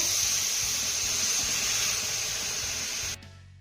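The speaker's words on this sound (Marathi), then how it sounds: "यामध्ये मी एक ते दीड ग्लास पाणी घालतीये" Water poured into a pan of cooking spinach curry gives a loud, continuous rushing hiss that runs steadily for about three seconds and then stops abruptly.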